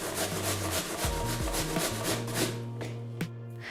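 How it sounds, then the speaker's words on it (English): Apples rasp against a coarse grater in quick repeated strokes, a close, rough scraping rhythm that runs throughout and eases slightly near the end, with no voices. "Grate the apples on a coarse grater."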